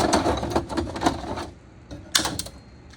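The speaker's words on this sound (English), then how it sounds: "A stapler gun." A handheld staple gun clacks and rattles as it is loaded, with dense mechanical clatter, a pause, then a sharp snap of firing, close and fairly loud.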